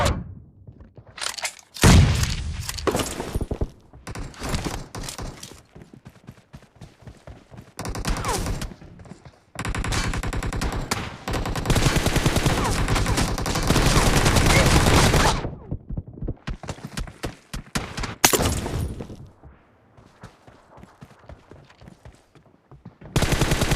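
Gunfire in the battle game PUBG during a team deathmatch, with dense bursts of automatic fire and single shots in loud clusters separated by short lulls, plus a brief heavy boom.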